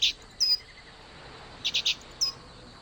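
A small bird in The Book of Unwritten Tales video game chirps in short, sharp, high tweets: a single call, a double, then a quick run of three and one more, each clear and close over a quiet background.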